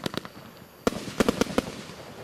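Fireworks cake firing a rapid series of sharp bangs and crackles, moderately distant, with a denser burst of pops midway.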